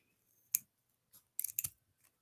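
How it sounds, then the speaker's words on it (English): Close, crisp snips of hand scissors cutting a piece of material in half for a STEM craft project, a single sharp snip followed by a quick cluster of clipping cuts in an otherwise quiet room. "So to do that, I'm going to take my scissors."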